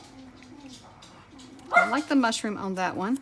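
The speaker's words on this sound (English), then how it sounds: "the dog barking in the background" A fussy pet dog barks and whimpers in the background of a home craft room, faint yips under a person's close conversational speech.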